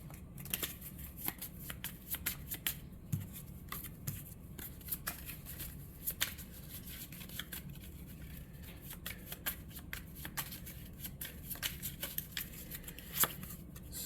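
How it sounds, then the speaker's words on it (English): Dogfight cards being drawn and shuffled during a board game, giving soft papery riffles and flicks with sharp snapping clicks scattered throughout, fairly quiet and close, with no talking. "And we get to draw 2 free dogfight cards."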